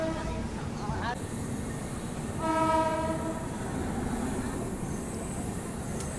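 Chennai-Bangalore double decker express train pulls away from the station with a long horn blast midway over rolling wheel rumble, nearby and fairly loud.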